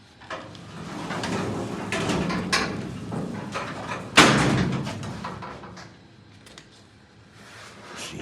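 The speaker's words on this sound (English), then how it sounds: "Heavy doors." The heavy doors of an old Montgomery freight elevator rumble and scrape as they are moved, ending in a loud thudding slam midway before the sound fades to a quieter rattle.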